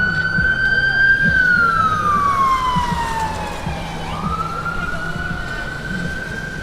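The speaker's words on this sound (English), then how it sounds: "More sirens." An emergency vehicle siren wails up and down on a rainy New York street along Fifth Avenue during a parade day, loud and close, over steady traffic rumble.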